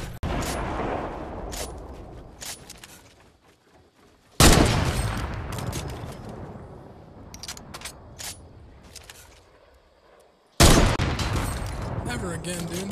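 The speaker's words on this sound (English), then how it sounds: "Guy shooting me." Gunfire aimed at the player in Fortnite: repeated loud bursts of shots in rapid clusters, separated by quieter gaps, with two sharp heavy volleys standing out, close and intense.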